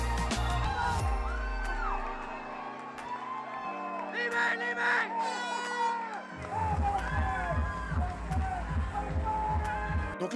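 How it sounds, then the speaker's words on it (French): A crowd roars, whoops and yells at an MMA event at the Casino de Montréal, loud and continuous, with music and shouting layered over the din. "la foule est en délire"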